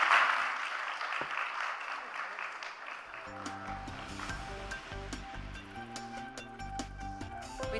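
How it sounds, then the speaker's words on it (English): Audience applause at a conference panel session, a broad wash of clapping for about three seconds that then fades under loud music with a steady beat. "please raise a warm applause for our panelists"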